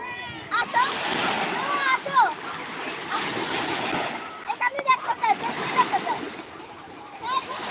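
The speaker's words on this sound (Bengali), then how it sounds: "এত জোরে ঢেউ আসতেছে" Sea waves crash and splash on a sandy beach in repeated surges, with people talking and shouting over the surf.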